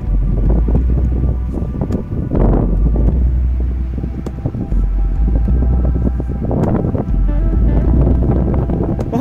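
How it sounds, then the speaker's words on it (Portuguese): Strong wind buffets the microphone in heavy rumbling gusts, swelling and easing steadily over several seconds with no voices, on a trail, strong enough to rock a car. "O vento quase virou meu carro"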